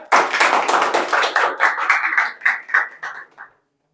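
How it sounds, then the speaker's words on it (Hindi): A seated audience at a public speaking session bursts into loud clapping that rings alone for about three seconds, then thins into scattered claps and stops. "आपको लगता है इनके लिए तालियां बजनी चाहिए?"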